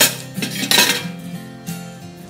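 Dishes and pots being washed in a home kitchen, with metal utensils clinking and clattering close by in uneven bursts, no voices.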